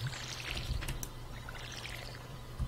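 A watering can pours water in the Stardew Valley video game, a soft splashing trickle with a brief sparkle, playing over a low background tone.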